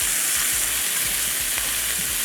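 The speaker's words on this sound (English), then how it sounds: "Saute this for a couple of minutes." Onions, garlic, pepper and okra sauté in a hot pan with a steady, loud sizzle and faint stirring scrapes, no voices.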